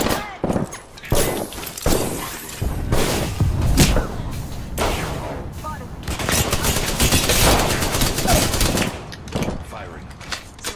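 Gunfire in the Apex Legends video game: dense bursts of automatic shots and heavy thuds fill the whole stretch, loud and close, with a player talking over the action.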